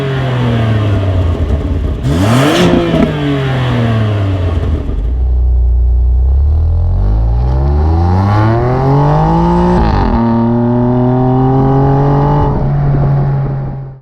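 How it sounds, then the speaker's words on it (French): A BMW M2 Competition's twin-turbo six-cylinder revs hard through its electronically valved exhaust, loud and close, the engine pitch climbing and dropping several times before settling into a steady, rumbling hold. "le système d'échappement qui maintenant est doté de soupapes à commande électronique qui permettent donc de profiter pleinement de la sonorité de ce 6 cylindres biturbo"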